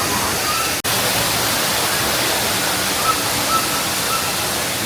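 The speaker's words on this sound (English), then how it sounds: "See the waterfall." Steady broadband rush of a waterfall inside an indoor theme park ride's jungle scene, a constant loud wash of falling water with no break except one brief dropout near the start.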